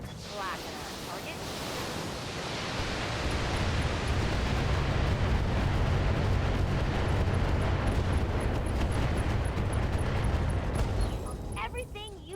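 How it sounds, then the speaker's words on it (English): Ammunition explosions from VRM missile ammo in the BattleTech video game build into a dense, roaring rumble of blasts that swells and sustains loudly before easing off near the end, with a voice speaking over it. "that's a lot of VRM ammo explosions"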